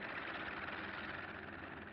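Droning propeller plane engine sound effect from an old Dick Tracy radio drama, a steady, muffled hum that holds level throughout, heard on its own with no voices.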